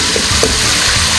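Chopped tomatoes and green chilies being stirred into frying beef for yakhni pulao, a constant loud sizzle with soft scraping thuds of the spoon, close and without talk.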